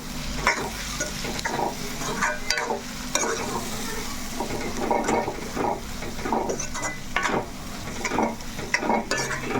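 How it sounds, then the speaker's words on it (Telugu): Gongura leaves are stirred into a sea prawn curry in a pan, with a spoon scraping and clinking against the metal in irregular strokes over a soft, steady sizzle. "చక్కగా గోంగూర వేసాక ఇలా కలిపేసుకుందాము"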